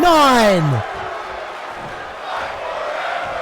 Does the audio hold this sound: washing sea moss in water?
no